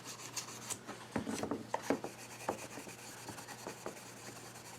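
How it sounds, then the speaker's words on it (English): Wood finish on a cherry spice box being buffed by hand, heard as a few soft, close rubbing strokes and light scratchy passes, quiet and brief, with no talking. "now I'm buffing it away"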